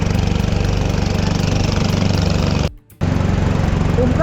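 A private motorboat engine runs steadily on the Narmada river near the Omkareshwar dam, loud and close with a rhythmic chugging drone that cuts out briefly before resuming.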